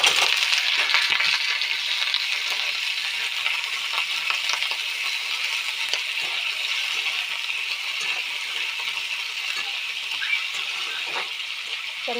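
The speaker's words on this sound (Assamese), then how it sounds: "মাংসখিনি অলপ ভাজা হৈ গৈছে" Broiler chicken pieces fry with onions in a pan, a loud, constant bright sizzle with scattered crackles and occasional stirring rattles, close up and without talk.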